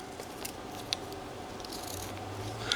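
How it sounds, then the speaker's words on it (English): A hand carving tool cuts into a wooden carving of an immigrant wedding scene, giving a few faint, sharp snips and scrapes close by against quiet background hum. "And let's go ahead and make a cut in here."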